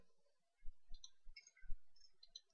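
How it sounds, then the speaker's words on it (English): Someone eating chips close to the microphone: a handful of sharp, crisp crunches and clicks in an uneven rhythm, loud and near, with no talk. "Are you eating chips?"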